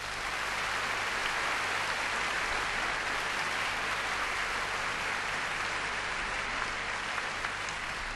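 A concert audience applauds the musicians in a Paris hall in 1983, a steady, dense wash of clapping that holds at an even level the whole time, with no voices over it.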